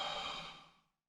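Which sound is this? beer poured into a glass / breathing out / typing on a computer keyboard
breathing out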